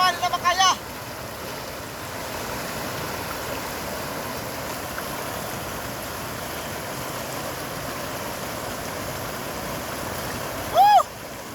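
A flooded stream rushes in a steady, broadband roar of fast water, loud and continuous throughout, with brief voice sounds near the start and near the end.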